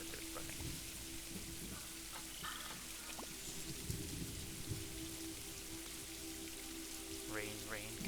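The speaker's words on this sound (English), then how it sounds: "Rain, rain, go away." Steady rain patters and hisses in the zoo-building game Planet Zoo, a constant wash with soft low music underneath and a few faint animal calls.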